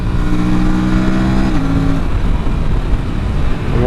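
A four-cylinder motorcycle fitted with a quickshifter revs loudly and close, its steady engine tone stepping down abruptly partway through as a gear changes, then running on as a rougher, broadband roar.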